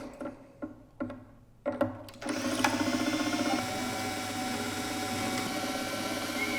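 Classical guitar tuning pegs are cranked to slacken the strings, giving a few sharp clicks and knocks and then a continuous fast ratcheting whir of the turning tuner mechanism, close and fairly loud.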